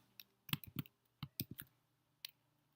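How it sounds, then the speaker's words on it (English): Quick bursts of keyboard key clicks, close and fairly quiet, coming in irregular clusters with short pauses between them. "We do the keyboard smashing."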